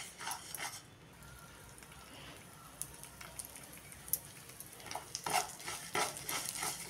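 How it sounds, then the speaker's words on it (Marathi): Varai rice roasting in ghee over a low gas flame, a faint sizzle with intermittent spoon scrapes and clinks against the pan, growing busier toward the end, quiet and close. "गॅसच्या लो फ्लेमवर 5 मिनिटं हे परतून झाल्यानंतर आता त्यामध्ये आपण 1 चमचाभर तूप टाकून घेणार आहे।"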